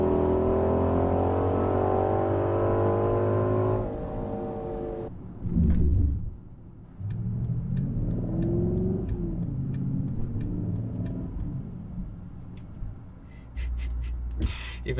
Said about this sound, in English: Even the downshifts in race mode are really aggressive as you decelerate and come to a stop.